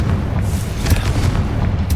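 A Confringo spell blast in the video game Hogwarts Legacy, heard as a sustained deep boom with heavy low rumble and crackling debris, loud and close throughout.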